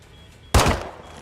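A single loud gunshot rings out as Makarov shoots Soap in a Modern Warfare video game, a sudden sharp blast after quiet that decays over a fraction of a second.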